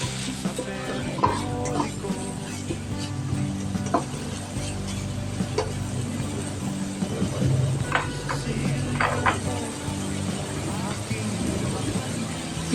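Tomatoes sautéing in a pot for skipjack tuna soup, a steady sizzle with stirring and scraping that carries on under continuous talk throughout.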